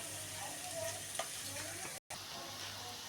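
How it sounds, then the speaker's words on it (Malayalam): Ash gourd stir-fry being stirred and tossed in an open pan, giving a steady sizzle with light scraping, continuous and close, with a brief dropout near the middle. "ഇനി അടപ്പ് തുറന്ന് വെച്ചിട്ട് നമ്മളിങ്ങനെ ചിക്കി കൊടുക്കണം"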